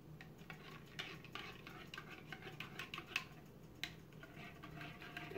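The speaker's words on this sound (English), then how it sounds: "I'm gonna stir it up." A spoon stirs hot chocolate in a cup, giving quiet, close, repeated clinks and light scraping against the sides over a soft, continuous swirl.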